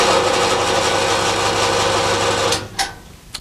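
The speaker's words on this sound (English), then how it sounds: "now I can use the endless loop of steel of my bandsaw" Bandsaw with an endless steel blade loop running steadily at a close, loud level with a continuous mechanical hum and whir, which drops away near the end, followed by a few brief knocks.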